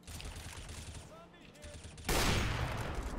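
Gunfire in Counter-Strike: Global Offensive, a dense burst of shots that starts abruptly partway through and stays loud, following quieter game sounds with faint talk.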